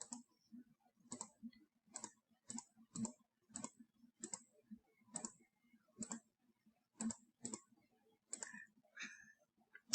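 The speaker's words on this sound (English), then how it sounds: "So you go in your calculator and type all that in." Button presses on a calculator keypad, a sparse irregular run of about twenty short plastic clicks, close and fairly quiet with silence between, sometimes in quick pairs.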